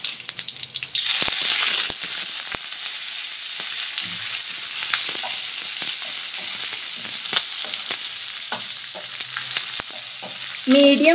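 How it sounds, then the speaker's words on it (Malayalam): Curry leaves hitting hot oil already holding mustard seeds and dried red chilli, tempering for lemon rice: a loud, close, steady sizzle that flares at first, then holds with scattered crackles and pops. "അത് കഴിഞ്ഞിട്ട് നമുക്കിതിലേക്ക് വേപ്പിലിടാം."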